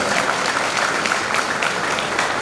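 A business conference audience breaks into dense, sustained applause, many hands clapping together at close range without a pause for the whole moment.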